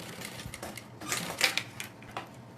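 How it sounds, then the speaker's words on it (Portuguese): A home sewing machine stitches a bag shoulder strap in short bursts of rapid mechanical clatter with small clicks between runs, fairly close and otherwise quiet. "E agora vamos costurar aqui também, do mesmo jeito."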